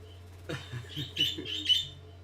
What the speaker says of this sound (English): You guys are gonna hear my birds.